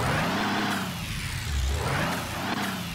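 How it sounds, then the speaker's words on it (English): Land Rover Defender 90 engine in Car Mechanic Simulator 2021, revving loudly and steadily with rising and falling pitch sweeps and a faint high turbo whistle near the top of each rev. "engine coming out of this Land Rover. It even's got a little bit of turbo whistle at the top end"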